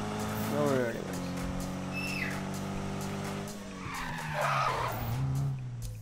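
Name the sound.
car drifting with tire skid in Need for Speed video game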